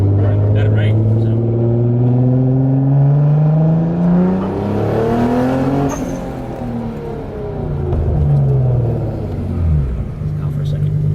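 A Nissan Fairlady Z fitted with a tuned R35 GT-R exhaust revs up close and loud, its engine note climbing and falling in long sweeps, with a sharp blip near the middle and a second rise afterward.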